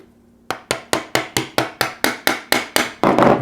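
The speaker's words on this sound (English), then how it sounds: "Very gently tapping him in there." Light hammer taps drive a pin into place while a Geissele SD-E trigger is fitted into a rifle lower, about eleven crisp, evenly spaced metallic strikes close by with no talking, ending in a louder, denser knock.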